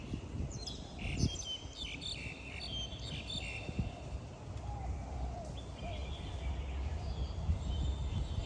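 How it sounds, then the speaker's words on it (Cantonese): Small birds sing outdoors in the morning, with scattered bright chirps and trills over a steady hum that may include insects, all fairly faint and without talk. "而家雀仔不停喺度唱歌"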